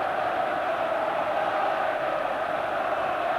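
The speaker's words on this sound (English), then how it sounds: "the crowd now really on its feet" Football crowd at a Newcastle versus Middlesbrough league match, a dense, steady roar from a packed stadium, loud and sustained with no break.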